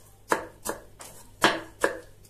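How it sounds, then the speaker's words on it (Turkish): Knife chopping peppers on a cutting board for a Turkish spoon salad: four crisp, distinct chops at an uneven pace, close and clear, with no talking. "Biberlerimizi de doğrayalım."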